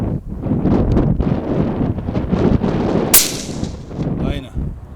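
Strong wind gusting across open Karoo veld, buffeting the microphone with a continuous loud roar, joined by a sharp crack partway through.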